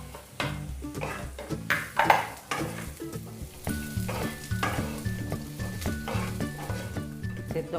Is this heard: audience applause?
no